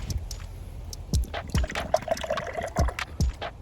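A thick pecan coffee pastry stout is poured from a freshly opened can into a glass, a close, gurgling trickle with small splashes and uneven glugs.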